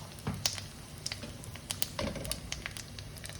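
Whole spices crackle and sputter in hot oil for a Bengali egg curry: cumin seeds, red chili, bay leaf and cardamom. Quick irregular pops and faint sizzling come through at low volume.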